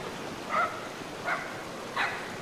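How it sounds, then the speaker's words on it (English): A dog barks inside a house in a video game, three short, muffled barks spaced evenly apart over a steady soft background hiss, with no talking. "Someone stole my dog. It's barking, but I cannot see it."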